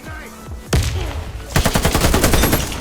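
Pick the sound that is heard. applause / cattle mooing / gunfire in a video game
gunfire in a video game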